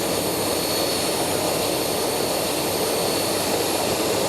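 EasyJet jet engines roar steadily while the aircraft taxis, a loud continuous broadband whine and rush with no break across the few seconds.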